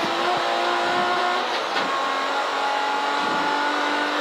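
A front-wheel-drive race car lapping the Castle Combe circuit, its engine droning steadily and loudly throughout with small shifts in pitch, no talk over it.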